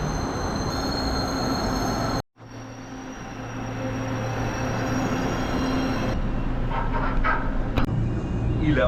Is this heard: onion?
no